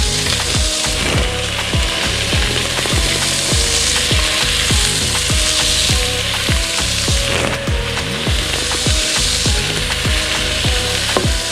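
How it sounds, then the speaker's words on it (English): Vegetables sauté in a pot for Jamaican oxtail with a steady, close sizzle. Brisk, regular scraping strokes run through it, like a spoon stirring, and no voices are heard. "Let everything get all nice and sauteed for a couple of moments."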